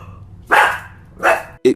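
A dog barks several times in short, loud bursts, with gaps of low background noise between them; no one speaks.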